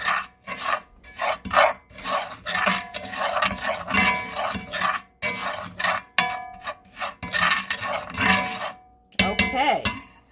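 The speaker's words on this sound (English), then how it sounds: "I'm going to stir the brown sugar in the butter" Brown sugar stirred into melting butter in a pan, a series of rough scraping and rasping strokes of a utensil, steady and close, with brief pauses between.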